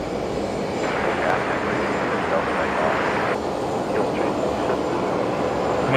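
A Qantas airliner taxis along a taxiway at Brisbane Airport, its engines producing a steady mid-distance whine and rumble that stays even throughout.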